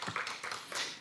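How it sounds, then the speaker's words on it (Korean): A church congregation bursts into brief applause, a dense patter of many hands clapping together for about a second. "박수!"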